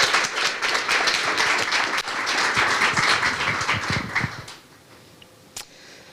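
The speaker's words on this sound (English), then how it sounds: "let's please give them one more round of applause" Applause for board members at an MPI Ohio award event in 2021, a full room clapping loudly and steadily for about four and a half seconds before fading to quiet, with one sharp tap near the end.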